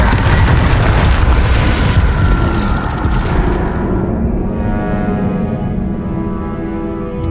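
A Confringo explosive spell bursts in Hogwarts Legacy: a loud, booming blast that rolls into a dense, rumbling roar and then decays into a lingering ringing tail, with no talk over it.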